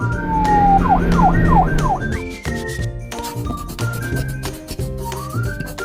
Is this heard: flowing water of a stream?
no